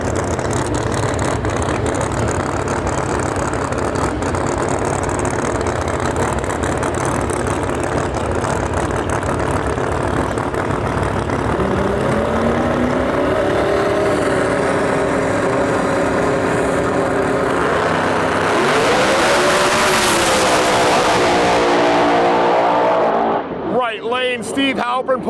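Procharger-boosted Fox body drag car at a drag racing event, a loud close engine rumbling steadily before climbing in pitch with a roaring pull that sweeps upward, then cuts off into a few fading engine bursts.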